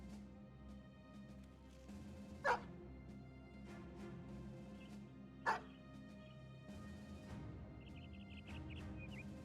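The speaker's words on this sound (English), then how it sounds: "Dog check. We have a dog." A dog barks twice in the Battle Brothers video game, about three seconds apart, with sharp, fairly loud yaps over a low in-game ambient bed and faint chirping near the end.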